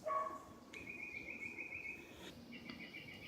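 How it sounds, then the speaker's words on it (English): Birds sing in a garden, a few clear whistled notes and a sustained high trill, faint against soft background noise. "Listen to the beautiful sound and the music of the birds."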